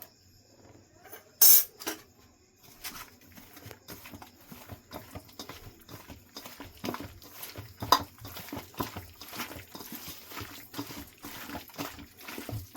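Chicken is mixed by hand with soy sauce and vinegar in a bowl, giving a continuous wet squelching and patter at close range. A sharp clink sounds early on, and the slapping grows busier and steadier as the mixing goes on.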